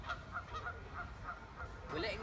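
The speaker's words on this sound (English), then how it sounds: "We're letting little Herbie see the ducks and the geese" Geese honk repeatedly by a pond where ducks gather, a series of short nasal calls at moderate distance over outdoor background noise.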